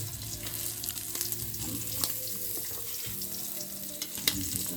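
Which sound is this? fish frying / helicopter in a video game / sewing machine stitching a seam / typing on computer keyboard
fish frying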